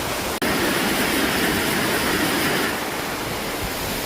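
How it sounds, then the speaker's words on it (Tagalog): A river in Pugo rushes in a steady, dense wash of flowing water, loud and continuous throughout with no voices. "Nakaka-relax yung yung aligasgas ng tubig ng ilog"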